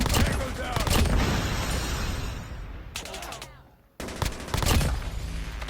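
Chopper light machine gun fired in the mobile shooter Call of Duty Mobile, with dense sustained bursts of gunfire in two stretches broken by a brief quiet gap, loud and close, while a player talks.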